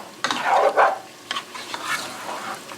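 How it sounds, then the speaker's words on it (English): A spoon stirs lamb curry (gosht salan) in a pot, giving a few scraping, sloshing strokes up close with a light sizzle underneath and no talking. "Give that a stir."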